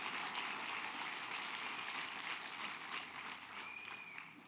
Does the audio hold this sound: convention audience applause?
yes